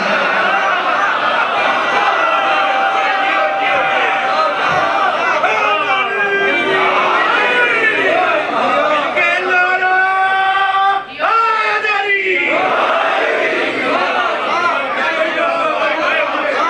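A large crowd at a religious gathering in Lahore shouts slogans in unison. The massed voices are loud and continuous, rising and falling in chant-like swells with bursts of collective shouting throughout.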